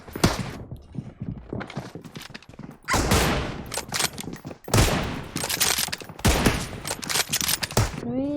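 Gunfire in PUBG Mobile, with an M24 sniper rifle among the weapons: loud, close bursts of shots come in several clusters, separated by short quieter gaps.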